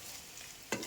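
Amaranth leaf and mango pickle stirred into a hot oil tempering gives a soft, steady sizzle and a sharp scraping stir near the end, close and quiet with no talk.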